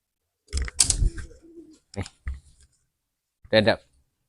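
A young pigeon coos in short throaty bursts with soft clicks and rustles of movement, close by, separated by quiet gaps.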